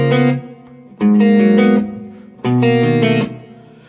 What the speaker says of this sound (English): We then get to the verse where we get a clean guitar sound,